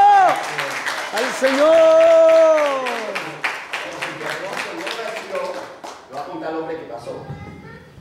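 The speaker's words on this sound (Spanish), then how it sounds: "Aplauso" Church congregation applauding with rhythmic clapping, heard under loud singing and talk throughout, the voices fading near the end.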